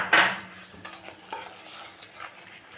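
Cauliflower curry with yogurt, sugar, green chillies and white pepper is stirred in a pan, giving a soft, close sizzle with a sharp scrape at the start and a few lighter clinks after.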